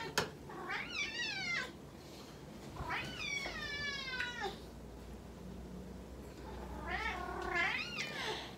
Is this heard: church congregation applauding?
no